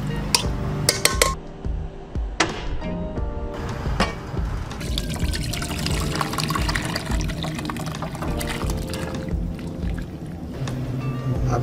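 Pressure-cooked beef korma scraped and poured from the cooker into a kadai, with metallic clanks of pot and spoon, wet sloshing and a sustained bubbling hiss, close and fairly loud.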